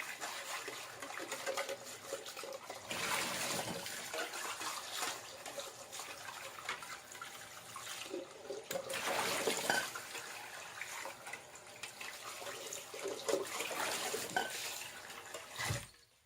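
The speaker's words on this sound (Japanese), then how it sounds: "水を入れます。" Tap water runs into a pot of freshly boiled eggs after the hot water is poured off, a steady splashing gush in several surges with brief pauses, close and fairly loud, ending in a short thump.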